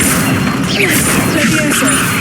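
A fire spell cast in the video game Hogwarts Legacy, giving a dense, loud burst of crackling, whooshing effects that fill the whole clip, with voices in the game mix.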